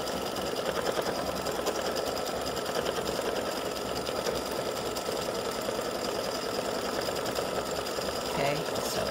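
An embroidery machine stitching a gnome design on tearaway stabilizer runs with a fast, steady mechanical chatter that holds unbroken from start to finish.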